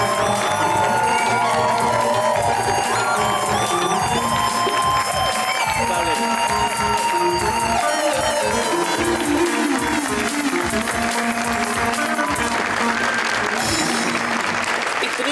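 Sustained audience applause at an Eid special television show fills the whole span, dense and loud, with music playing underneath and occasional cheers as a guest is welcomed on stage.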